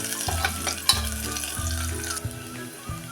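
Onions sauté in a pan, sizzling steadily, with repeated low rhythmic scraping strokes from stirring every second or so.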